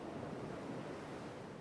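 Ocean waves wash steadily onto a beach shore, a soft continuous surf rumble with gentle wind, no distinct breaks standing out, calm and even throughout.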